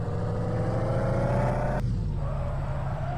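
Audi R8 engine revving loudly and steadily nearby, its sustained roar cutting off abruptly partway through, followed by a lower idle-like rumble.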